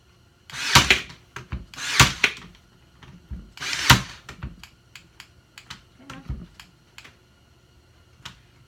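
A Craftsman C3 cordless brad nailer drives brads into wood, giving a series of sharp, close snapping shots spaced irregularly, followed by lighter clicks and handling taps.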